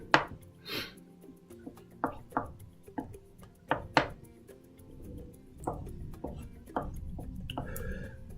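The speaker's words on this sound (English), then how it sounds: "we're going to cut the hard-boiled eggs just so that way you don't get a big chunk of hard-boiled eggs" A knife chops hard-boiled eggs, yolk and all, on a cutting board in a repeated series of crisp, close taps at an uneven pace, with talking between the cuts.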